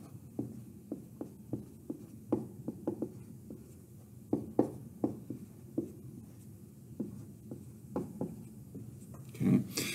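Pen or pencil writing and underlining numbers on paper, a close series of soft scratchy strokes and taps in an irregular rhythm, faint in a quiet room.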